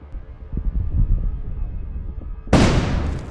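A sudden loud blast of a bomb dropped on a soldier in wartime bursts in after a stretch of low rumbling background noise, followed by a sustained roar as the explosion's energy dissipates.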